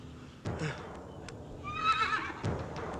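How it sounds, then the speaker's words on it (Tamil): A horse neighs and whinnies nearby in a Tamil comedy film scene, a loud shrill call rising over a faint background with a couple of thuds, while a voice is heard faintly. "நமக்காகவே குதிரை தயாராக இருக்கின்றது"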